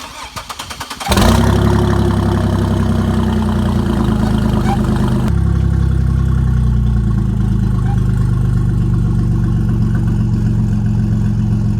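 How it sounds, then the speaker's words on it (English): A twin-turbo 3800 V6 in a Camaro cranks briefly, then catches and settles into a loud, steady close-up idle with a deep rumble and a slight shift in tone partway through. "Now we just got to let it sit here and idle until it gets to full operating temperature."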